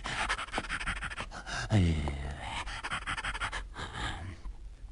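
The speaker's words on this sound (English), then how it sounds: "he saw an old hound lying in the road, gasping and panting" Rapid, rhythmic panting from a dog, breathy and continuous, with a brief louder rasping gasp partway through; close by with no talking.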